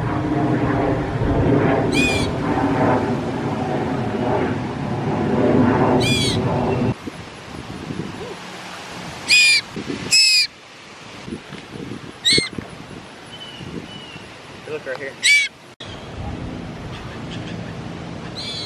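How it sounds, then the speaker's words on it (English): Baby bird fallen from a tree onto the ground near a street, giving several short high chirps spread across the stretch, with steady outdoor background noise beneath and a louder rumbling bed in the first seconds. "this baby bird fell out of the tree and just sitting over here just making sounds"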